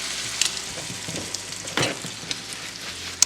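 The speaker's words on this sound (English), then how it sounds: "you'll be able to fry this thing perfectly and get the butter flavor" Two crab cakes frying in butter in a pan, giving a steady close sizzle with brief crackles and spatters, loud enough to stand alone with no talk.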